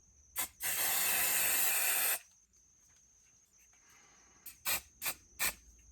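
Aerosol spray paint can spraying in several bursts: one sustained hiss of about a second and a half, then four short quick puffs, close and loud against a quiet room.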